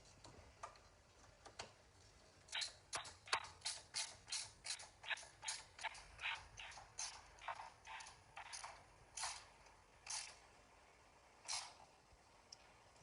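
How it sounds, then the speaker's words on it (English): A ratchet wrench tightens a torque screw on a Prusa Core One+ 3D printer during an upgrade assembly, giving a steady run of crisp, close mechanical clicks in quick rhythmic bursts with brief pauses, heard alone. "I want to prepare a torque screw with ratchet."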